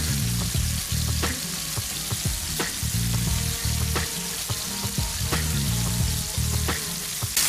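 Seasoned chicken breasts sear in a pan for a Provençal-style dish, a constant close sizzle broken by repeated sharp pops and spatters, with no one speaking.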